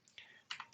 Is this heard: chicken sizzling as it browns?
no